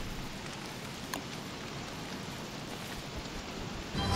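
Steady rain falls in Don't Starve, a continuous even hiss that holds for the whole stretch with one faint tick partway through and a slight swell at the end.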